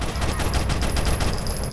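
Dense, rapid gunfire from Rainbow Six Vegas on the Trainyard map, a continuous loud barrage of overlapping shots with a sharp, crackling texture throughout and no gaps.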